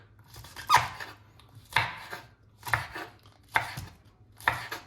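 Five evenly spaced knife chops through peppers on a cutting board, each a crisp close thud with a short crunchy tail, about one per second, with no talking, while preparing lamb sac kavurma.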